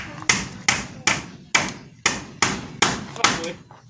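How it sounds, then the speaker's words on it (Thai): Hammer blows pound a piece into place while building a ladder, seven sharp, evenly spaced strikes landing close and loud, each ringing briefly before the next. "ตอกเทิงขึ้นไปเลยคุณไข่"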